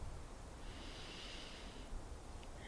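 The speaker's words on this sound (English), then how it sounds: "Breathing in through the nose" Someone takes a slow, steady inhale through the nose during a calm breathing meditation, a soft airy hiss that lasts about a second and sits close and quiet.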